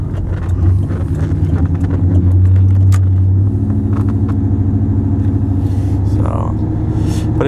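A canopy-topped truck drives along the road, its engine rumbling low and steady with road noise close by, the tone shifting slightly partway through and light ticks and rattles scattered over it.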